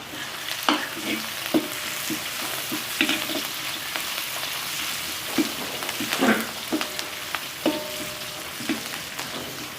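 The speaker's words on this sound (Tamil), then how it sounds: "வெங்காயம் வதங்க நான் கருவேப்பமில் போடுவோம் சேர்ந்து வதங்காட்டும்" Onions and curry leaves sauté in a hot pan with a continuous close sizzle, broken by repeated clattering scrapes of a spoon stirring the mixture.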